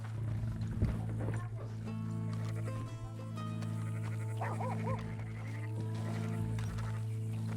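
Lion growling in Red Dead Redemption 2 at a travelling circus, low rumbling growls over a constant droning background, with game voices speaking intermittently.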